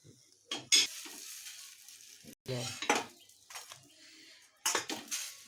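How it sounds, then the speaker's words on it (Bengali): Paratha flatbread frying in oil in a pan, heard as quiet intermittent bursts of sizzle mixed with clinks of a spatula and utensils against the pan. "এইভাবে করে আমি সব পরোটাগুলো ভেজে নেব"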